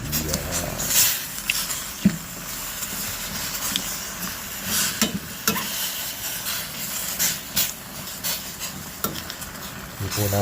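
Instant noodles are stirred in a pot with broth, producing irregular scraping and soft clinking against the pot over a low bubbling sizzle.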